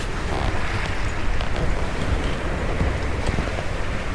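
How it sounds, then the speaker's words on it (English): Steady wind roars across the microphone aboard a sailboat on the Atlantic near the Verrazano Bridge, doing about 5.5 knots. A continuous broadband rush mixes with the wash of water and gusts buffeting the mic, with no talk. "Yeah, see, now we're getting some good wind."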